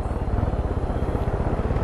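Helicopter taking off in the video game Far Cry 5: a loud, steady rotor thrum with rhythmic chopping pulses and engine whine, close and continuous.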